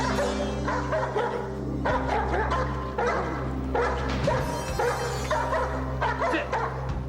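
Two dogs bark repeatedly in an indoor drama scene, a mix of deep woofs and sharper yips coming in close, loud bursts over a steady low electrical hum.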